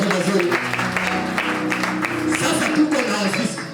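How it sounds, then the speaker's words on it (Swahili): A church congregation at a launch ceremony claps for Jesus, a warm sustained round of applause with a voice talking over it. "Pigia Bwana Yesu makofi mazuri"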